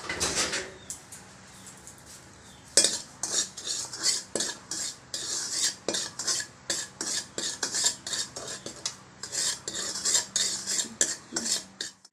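Salt is dry-roasted in an empty pan for a raw mango pickle, with a utensil scraping and stirring it in quick, rhythmic strokes that are close and fairly loud throughout.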